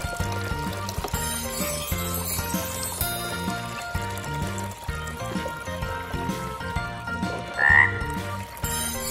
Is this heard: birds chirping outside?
no